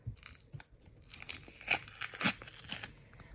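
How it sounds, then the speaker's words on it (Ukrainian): Crisp crinkling and rustling of a paper bag being handled and opened, with irregular bursts of crackles close up. "Оцей от пакетик ми маємо і відкриваємо його."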